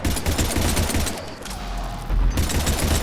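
Rapid gunfire from the video game Mass Effect 3, dense overlapping bursts that fill the scene, briefly thin out to a low rumble midway, then return at full intensity.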